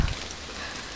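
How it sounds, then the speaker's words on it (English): Soft rain falls on the ground in the Clannad game, a faint, even hiss of drops with a brief low thump at the start. "the sound of the drops burying themselves in the ground"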